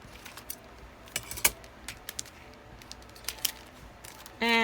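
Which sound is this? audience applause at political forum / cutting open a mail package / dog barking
cutting open a mail package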